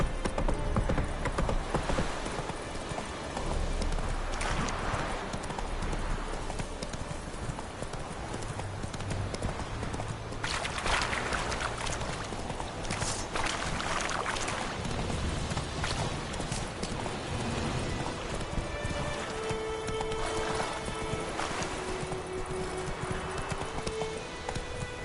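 Roach, the horse in the Witcher 3 video game, gallops with a steady, fast clip-clop of hooves that runs throughout and stays prominent, with game ambience layered underneath.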